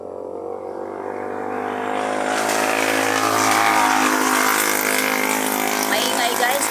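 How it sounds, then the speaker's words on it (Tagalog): Traffic on a highway, with a vehicle passing close by: a low engine hum swells into a loud, broad roar of tires and engine that stays near and steady to the end. "Marami nang dumadaan na sasakyan."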